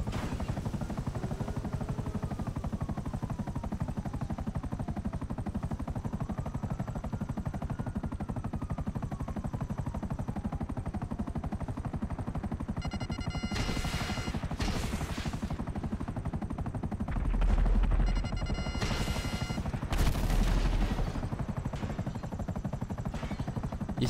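A video game helicopter lifts off with a constant rotor drone, and two short, sharp bursts that sound like gunfire cut through it partway along.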